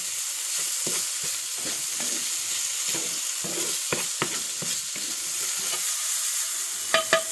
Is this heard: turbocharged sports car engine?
no